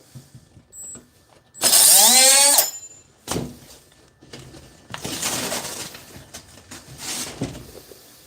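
A Milwaukee M12 2522 cordless cut-off tool spins up with a loud, rising whine and cuts through drywall in one burst of about a second, then gives shorter bursts of rasping noise, with quiet gaps between them.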